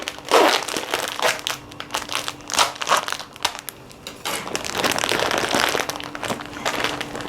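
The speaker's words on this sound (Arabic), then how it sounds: "هنجيب كيس من المكرونه." A plastic pasta bag is handled in a home kitchen, giving loud, close, irregular crinkling and crunching in repeated bursts with short pauses, heard alone without talk.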